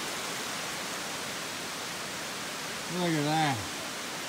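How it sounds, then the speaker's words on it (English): A small waterfall on the Appalachian Trail near Woody Gap makes a steady broadband rush that runs throughout at constant loudness, while a voice speaks briefly over it near the end. "Pretty little waterfall. Almost to Woody Gap. But here's the real thing."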